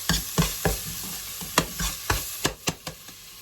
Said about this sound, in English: So the chilli flakes have been cooking for a few minutes